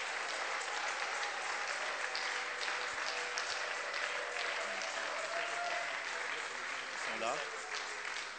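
A church congregation applauds steadily as a preacher comes forward, a dense sustained clapping across the whole stretch with voices and cheers mixed in.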